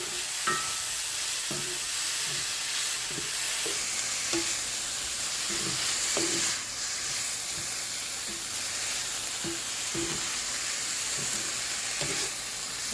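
Cabbage frying in a pot in a Jamaican-style stir fry, with a steady loud sizzle and hiss and the soft scrape of occasional stirring throughout.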